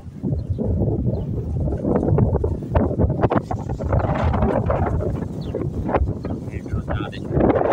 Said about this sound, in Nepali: यस्तो हावा चल्दैछ आज त टन्नै।